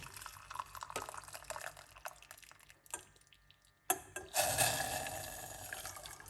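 Hot water pours and splashes into a pot for mint tea, a steady trickling stream with small drips, growing louder and fuller toward the end.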